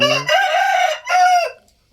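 A young fighting rooster crows loudly and close: one drawn-out, strained call, a brief break, then a shorter second phrase that tapers off into silence.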